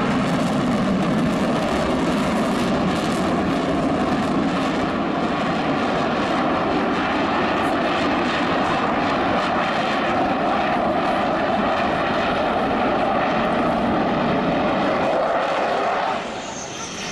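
An F-16 fighter jet roars steadily and loudly through its maneuvers at the Jesolo European Air Show in 2017. The broad engine rush barely changes before dropping away at the very end, while a voice narrates underneath.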